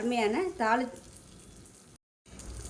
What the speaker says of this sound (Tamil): தேங்காய் எண்ணெயில் கடுகு, உளுந்து, சீரகம், வரமிளகா, கருவேப்பிலை, பெருங்காயம் போட்டிருக்கேன். இது தாளித்து அப்படியே இதில் போட்டுடலாம்.